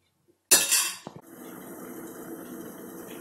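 A metal lid set down on a cooking pot of simmering vegetable and dried prawn curry gives a sharp close clatter with a brief ringing rattle, then the pot's steady low simmer continues.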